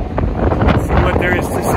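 Strong gusting wind in Tangier, Morocco buffets the microphone with a loud, roaring rumble that rises and falls throughout.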